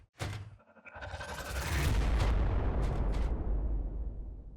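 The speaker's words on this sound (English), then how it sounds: "Frag grenade deployed!" Frag grenade blast in a video game: a sharp crack followed by a heavy, rolling explosion that swells and rumbles on for several seconds, loud and close, with no one talking over it.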